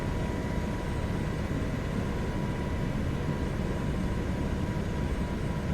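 An MH-60 helicopter cruising in Microsoft Flight Simulator 2024 in nasty weather over Glacier Park, heard as a steady, loud, unbroken broadband engine and rotor roar that holds constant throughout.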